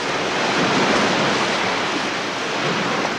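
A wave maker in a Swansea leisure centre pool churns choppy water, giving a loud, continuous wash of splashing and rushing that stays steady and close without any voices.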